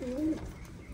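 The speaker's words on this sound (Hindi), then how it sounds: "एक वो ब्लैक टेल जो है कबूतरी" A black-tailed pigeon gives a low, soft coo lasting about a third of a second, fairly close, followed by quiet background noise.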